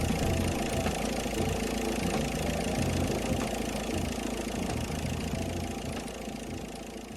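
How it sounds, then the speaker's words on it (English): A car engine idles steadily during a cooling system water pump pressure test for a suspected bad head gasket, giving a continuous, even, close mechanical drone with a slight knock that fades a little at the end. "you will need to be revving the engine to around 3000 RPM to get an accurate reading"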